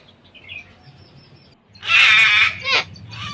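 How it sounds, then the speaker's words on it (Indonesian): A baby cockatoo inside a nest log calls with harsh, raspy squawks that rise suddenly after a quiet stretch of faint background sound, then a shorter burst follows. "Ini mulai terdengar suaranya. Apakah benar itu dari baby parrotnya?"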